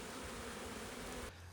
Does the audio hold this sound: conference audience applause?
no